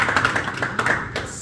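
Scattered claps from a small group at a media association courtesy call, a few hands tapping unevenly for about a second and a half, fairly close and moderately loud, with no talking over them.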